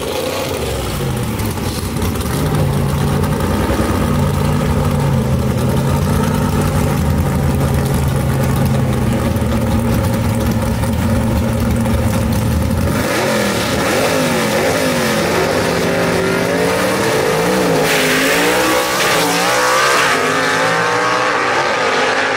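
Gasser drag racing cars at Knoxville Dragway roar loudly down the strip, a steady heavy engine drone with stepped gear changes, then a wavering, revving pass as the sound shifts and fades near the end.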